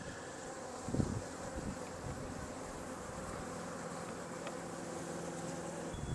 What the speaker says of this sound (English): And there's so many bees